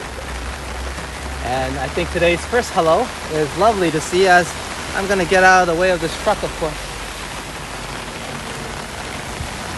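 Steady rain falls on a street in Phuket, Thailand, a constant hiss beneath someone talking close to the microphone for most of the stretch.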